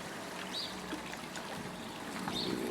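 The Voiselle river, which flows into the Lièvre near a mill, runs with a steady broadband rush and trickle, close and continuous, with a few faint chirps on top and no talk.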